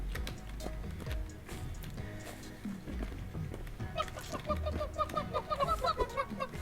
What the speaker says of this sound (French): des petites poules qui ont peur dès qu'on s'approche